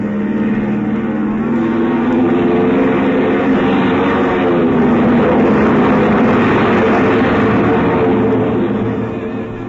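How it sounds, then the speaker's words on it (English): A loud, steady engine roar with a propeller-like drone builds and holds, an airplane revving and rushing down a runway, from a 1951 radio drama. "The pilot guns the engines for a few seconds, and then the plane rushes down the runway towards you."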